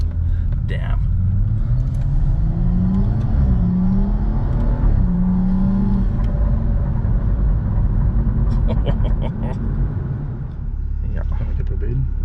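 A 430HP BMW M135i engine rumbles and revs inside the car while driving, loud and steady with rising engine tones, and people talk over the engine noise.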